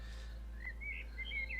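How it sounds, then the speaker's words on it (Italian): Birds singing in a forest, a few faint, distant chirps and short whistled notes over a low steady rumble, no voices. "tutti i suoni, tutti questi canti degli uccelli"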